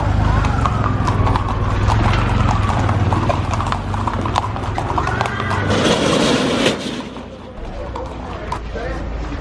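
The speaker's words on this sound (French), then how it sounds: "Calèche." Horse-drawn carriage hooves clip-clop steadily on a busy street in Giza, Egypt, loud and close, with a horse whinnying amid crowd babble and people talking, traffic noise underneath.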